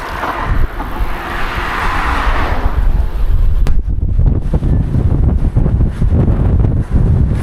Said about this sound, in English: It is extremely windy today though.